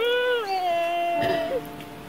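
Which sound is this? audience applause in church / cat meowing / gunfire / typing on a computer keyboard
cat meowing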